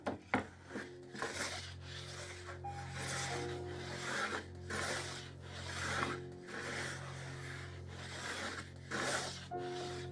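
Hand plane shaving rough sawn timber, taking off high points in a steady series of close, rasping strokes, each a few tenths of a second long, repeated rhythmically with no voices.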